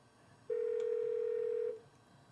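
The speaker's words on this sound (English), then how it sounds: "it's just like the ringback sound from a phone" An MP3 playing on a Dell OptiPlex GX110 computer gives a single steady electronic tone like a phone ringback, lasting just over a second, fairly loud and alone over faint background hum.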